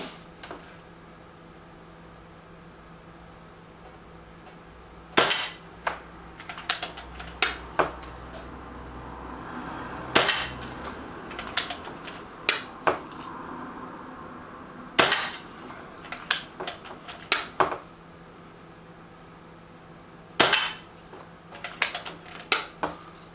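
A Reximex Pretensis .22 air rifle fires pellets at a target: sharp, close shots spaced about every five seconds, each followed by quick metallic clicks of cycling and reloading, over a faint steady hum.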